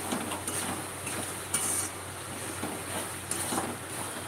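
Freshly cooked curry is tipped from the cooking pan into a large pot, with a steady wet hiss, soft stirring scrapes and a few metal clinks of cookware. No one talks.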